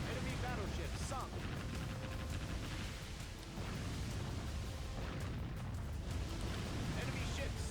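Rumbling booms and crashing blasts as enemy warships explode and sink in the naval combat game Warship Gunner 2, a dense continuous roar of detonations and churning water with game voice chatter mixed underneath.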